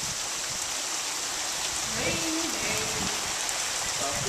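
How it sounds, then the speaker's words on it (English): Steady rain falls and hisses continuously on surfaces outdoors, a constant wash of sound with a faint voice murmuring briefly underneath. "It's raining, man."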